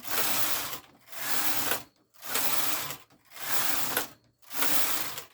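A sewing machine knitting ribbed fabric runs in four loud bursts of rapid mechanical clatter, each about a second long, separated by brief pauses, close and without talking.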